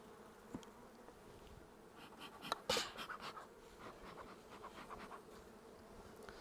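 Gentle, docile honey bees hum and buzz softly at close range around a nucleus hive, with individual insects droning past now and then over a faint steady background.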